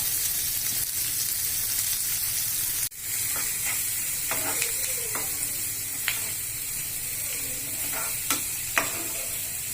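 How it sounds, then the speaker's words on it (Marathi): Onion, green chili, ginger and garlic sautéing in a pan for chivai leafy-greens bhaji: a steady, close sizzle throughout with occasional spoon scrapes and small pops, no voices. "कांदा छान सॉफ्ट व्हायला पाहिजे, लाल होईपर्यंत थोडंसं परतून घेऊया"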